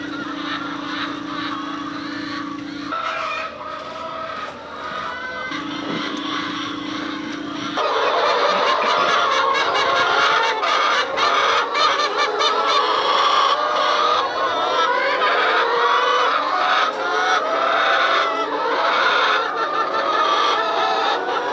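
A flock of chickens in a sheltered winter pen with bedding clucks and squawks constantly nearby, the noisy chatter growing denser and louder partway through, with a low steady hum under the early part.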